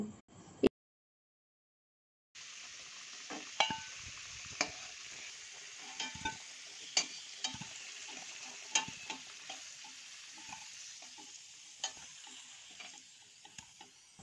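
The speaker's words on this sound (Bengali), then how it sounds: "আলুগুলোকে গোল্ডেন ব্রাউন করে ভাজা করে নেব" Potatoes seasoned with salt and turmeric frying in oil, a soft steady sizzle after a short silent gap, dotted with frequent crackles and pops from the pan, no talk.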